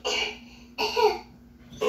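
Three short, close coughs in a row, each a raspy burst with brief pauses between, sounding somewhat childlike.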